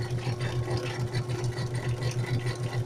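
A steady mechanical whirring and rattling hum from an appliance drum in need of repair, turning rough and uneven with a constant droning undertone.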